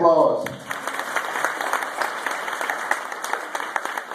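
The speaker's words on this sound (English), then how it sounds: "Round of applause." Audience applause at a school felicitation for a performance: a steady, dense wash of many hands clapping. It follows a voice at the very start and continues evenly throughout.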